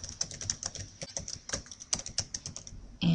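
Rapid typing on a computer keyboard while working in Photoshop, a steady run of close, crisp key clicks with uneven rhythm, ending in a louder clack.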